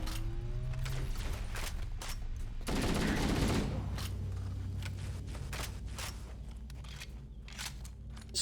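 Rapid Magnum pistol shots ring out in Halo: The Master Chief Collection multiplayer, a dense string of sharp cracks with a heavier burst of overlapping fire midway through, over steady game ambience.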